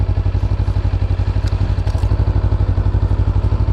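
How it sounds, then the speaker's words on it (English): A motorcycle engine idles steadily and close by at a wild moto-camping spot in Wales, its low, even pulsing beat unbroken throughout, with a faint clatter on top and no talking. "Let's turn the bike around as well."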